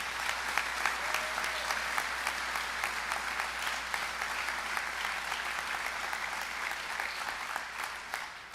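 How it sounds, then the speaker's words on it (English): A hall full of people applauds at the opening session of Arkansas Boys State, with sustained, even clapping from a large crowd that carries on for several seconds at a fairly distant, roomy level. "Let's give a good round of applause to Mr."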